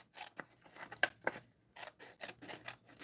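Scissors cut along a score line in a cardboard box, a series of short snipping and crunching strokes at close range, fairly quiet, with a pause midway.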